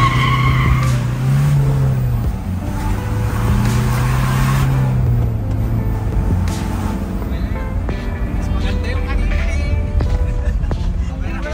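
A remapped vehicle engine is run hard to test its power, giving a loud, continuous roar with rising and falling pitch and tire-like squeals, with some talk mixed in.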